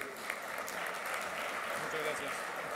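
Audience applause at an agricultural conference welcoming a speaker on the challenges of the sheep industry, a steady wash of clapping throughout with some speech-like sounds mixed in.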